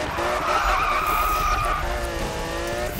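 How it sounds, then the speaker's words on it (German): Tires of a Lamborghini Murcielago screech loudly and steadily through a long drift in the Need for Speed racing game, with engine noise underneath and no talking. "Also der Murcielago lässt sich jetzt besser driften"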